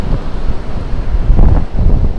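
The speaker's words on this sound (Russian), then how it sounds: "Ветер ярко выраженный, присутствует. Волнение в море, как вы видите сами, очень большое." Strong wind buffets the microphone in gusts beside a rough, choppy sea near Nha Trang and Cam Ranh, Vietnam, in February. Deep surging rumbles rise and fall loudly and unevenly, with heavy waves underneath.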